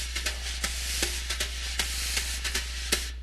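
Live drummer playing a brush circle pattern in 3/4, the left hand sweeping a steady dotted half-note circle while soft accents tap through a continuous swishing hiss, close and moderately quiet.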